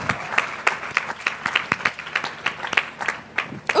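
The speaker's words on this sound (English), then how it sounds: "Can we please give her another round of applause?" Audience at a live women's creative event breaks into applause, a brisk run of individual claps with uneven rhythm from a modest crowd, moderately loud and unaccompanied by speech.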